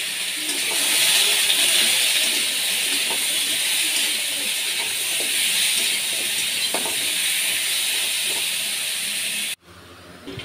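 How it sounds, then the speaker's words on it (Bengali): Potato and green banana slices fry in oil with salt and turmeric, a loud, even hiss of sizzling that holds for about nine seconds before cutting off abruptly, with no voices. "আলু আর কাঁচকলা দিয়ে ভালো করে নুন হলুদ দিয়ে ভেজে নেব।"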